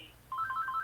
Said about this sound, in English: you could probably hear my phone ringing in the background.